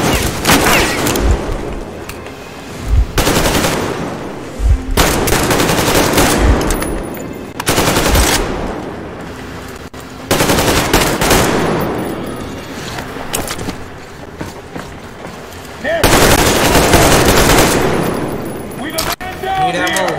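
Heavy pistol fire in the video game Metro Exodus comes as loud, repeated bursts of shots in a battle with guards. The bursts arrive every couple of seconds over about twenty seconds, mixed with game noise.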